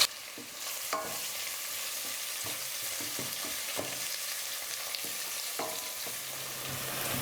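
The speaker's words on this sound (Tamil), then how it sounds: "வெங்காயம் வந்து பார்த்தீங்கன்னா இந்த மாதிரி ஓரளவுக்கு கொஞ்சம் லைட்டாக ப்ரௌன் கலரில் மாறுற வரைக்கும் வதக்கிக்கோங்க" Onions and a lengthwise-cut green chili sauté in oil for tomato rice, a soft, steady sizzle broken by irregular scraping stir strokes, close and quiet with no voices.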